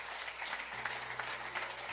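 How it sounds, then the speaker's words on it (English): Church congregation applause during a midweek service, a steady wash of many hands clapping throughout, with a low hum underneath. "Why don't we just give him a hand clap of praise real quick?"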